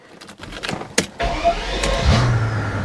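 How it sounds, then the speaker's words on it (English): A 500 hp twin-turbo V12 Mercedes SL600 cranks briefly after some clicks and shuffling, then catches and settles into a low, steady idle rumble, close by with no talking. "Let's fire it up."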